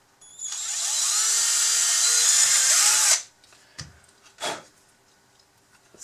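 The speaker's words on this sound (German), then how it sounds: "wir bohren hier noch einmal durch" A power drill whines steadily for about three seconds, rising in pitch as it bites through a part of a Bruder RC Manitou telehandler model, then stops, followed by a few short clicks and knocks.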